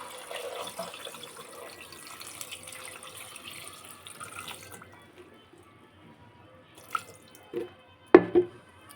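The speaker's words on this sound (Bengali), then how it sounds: "জল দিয়ে দিলাম।" Water goes into a cooking pot for chicken kosha after turmeric is added. A faint trickle runs under quiet kitchen background, then a few brief louder splashes and drips come near the end.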